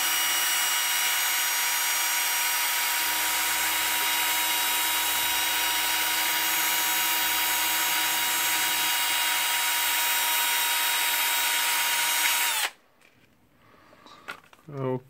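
A Bosch GSR 18V Li cordless drill spins its armature commutator against sandpaper with a loud, steady, high-pitched whine for about twelve seconds, then cuts off abruptly into near quiet.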